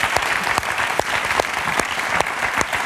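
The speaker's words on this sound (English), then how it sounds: "Everybody clap on that one." A church audience claps steadily during a sermon, a dense wash of hands with a few sharper individual claps standing out, no voices on top.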